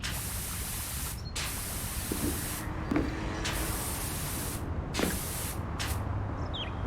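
A pressure washer in the game Powerwash Simulator blasts metal cleaner, a loud continuous hissing spray that cuts out briefly several times between bursts.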